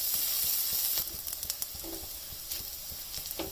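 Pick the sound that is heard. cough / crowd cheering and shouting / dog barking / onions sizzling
onions sizzling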